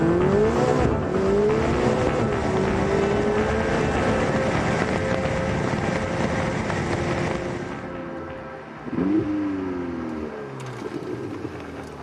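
A Ferrari 488 GTB engine roars steadily under hard acceleration, its pitch climbing through rapid gear changes, each shift instant and followed by a fresh rise in revs, close and loud.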